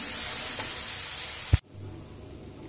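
Spice paste with a splash of water sautéing in a pan for a jackfruit and prawn curry, heard as a loud, steady broadband sizzle that cuts off abruptly, leaving a quieter hiss.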